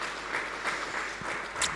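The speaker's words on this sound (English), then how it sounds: "An applause for them as well." Brief round of audience clapping at a European AI and robotics event, a soft, somewhat distant patter of hands with a few louder individual claps.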